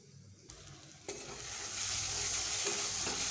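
Spice masala stir-fried in a pan, a sharp scrape at the start and then a rising, steady sizzle of frying that swells louder and fills the clip with no one talking.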